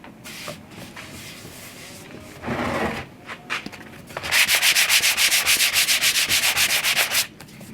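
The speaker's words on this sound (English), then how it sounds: "you need to sand this down, and this is a 320" 320-grit sandpaper works over a varnished finish with a few scattered rubs and bumps at first, then a fast, close run of steady back-and-forth sanding strokes before it stops.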